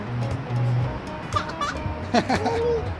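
Chickens cluck in short bursts against a steady farmyard background with cows nearby, with a few sharper calls toward the end.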